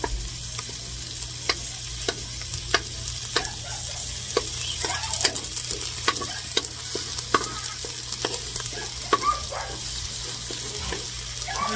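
Tomatoes are sautéed and mashed in a pan for pinakbet, giving a continuous frying sizzle punctuated by rhythmic tapping and scraping of a utensil pressing against the pan, steady and close with no talking.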